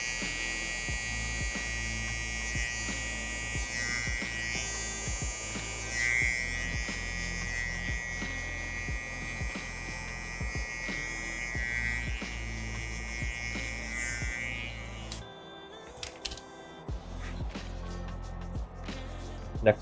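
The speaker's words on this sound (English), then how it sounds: "We go to our trimmer." An electric hair trimmer buzzes steadily through a fade haircut, a close, continuous hum with rhythmic pulses for about fifteen seconds before cutting off, followed by faint clicks.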